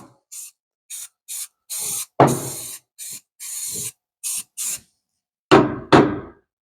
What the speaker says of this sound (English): I'm just spraying it with this rust stuff.